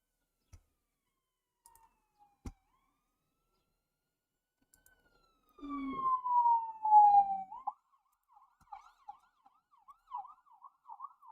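A siren sound effect wails in a single rising and falling sweep, then breaks into rapid warbling yelps that fade out, standing alone against near silence with a few scattered clicks before it.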